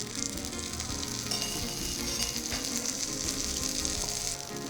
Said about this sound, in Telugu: ఇప్పుడు దోశ వేసుకుందాం.